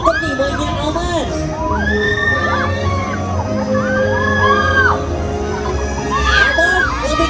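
Riders scream and whoop on a spinning amusement park ride at Mikie Funland in Brastagi, rising and falling in loud, continuous waves of shrill shouting over rumbling ride machinery and background music.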